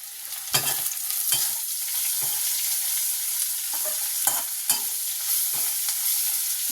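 Bottle gourd peel stir-fries in a pan, giving a continuous close sizzle broken by repeated scraping and stirring strokes of a spatula at irregular intervals, with no talking.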